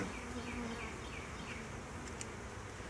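Honeybees from a newly installed package buzz in a steady, close drone, a faint hum with several wavering tones and a brief tap near the end.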